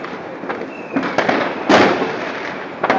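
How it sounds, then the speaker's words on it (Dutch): New Year's Eve fireworks in Nijmegen burst and crackle in a string of sharp pops, several loud bangs standing out against a steady hiss of crackling in the distance. "Nou zijn ze weer nieuw vuurwerk aan het pakken, let maar op. En dan gaat het zo meteen weer."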